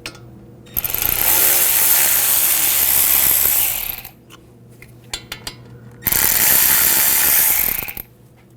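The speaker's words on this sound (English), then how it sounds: "You're going to use a Hex 7 socket, 7mm. Take those out." Ratchet fitted with a 7mm hex socket backing out the caliper slide pins on a Volvo S60's front brakes, two loud, close, sustained bursts of rapid clicking separated by a short pause filled with light handling noise.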